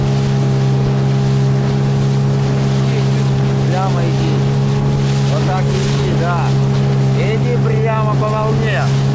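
A Suzuki outboard motorboat pushes through rapids on a Siberian taiga river, its engine holding a loud constant hum amid rushing water and wind buffeting, while voices talk intermittently over the noise.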